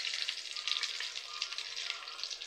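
Curry leaves crackle and sizzle in hot oil in a home kitchen pan, a steady dense spitting fry that holds close and even throughout without pause, with no talk.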